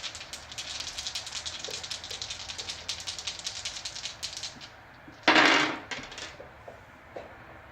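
Dice clatter on a tabletop during a Star Wars Destiny card-and-dice game as three dice are re-rolled: a long run of rapid small clicks and rattles, then one louder, denser clattering burst near the end, close and alone.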